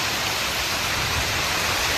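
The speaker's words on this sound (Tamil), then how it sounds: "ரொம்ப நாளைக்கு அப்புறம் இந்தமாரி மழை பெய்யுதுங்க" Rain pouring outdoors in a steady, dense hiss that stays even and close throughout, with no voices.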